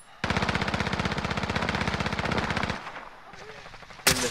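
Rapid automatic gunfire in the video game Call of Duty: Modern Warfare, with a loud sustained burst of evenly spaced shots that stops abruptly and is followed by quieter game sounds and one sharp final shot.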